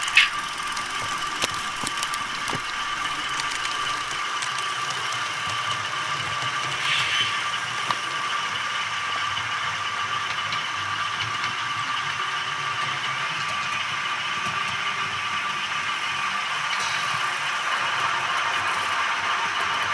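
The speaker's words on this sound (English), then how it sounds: "As you can hear, despite all the noise on my layout with the sound-equipped locomotives, this is a very smooth-running engine" An inexpensive model train locomotive from a Toy Story 2 IHC set runs on a layout, giving a steady faint whirring hum with light mechanical ticks and squeaks throughout, no voices.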